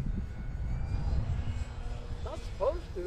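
A Night Timber X model airplane flies in the dark on a windy New Year's Day, its motor a steady drone beneath gusty wind noise while people talk nearby.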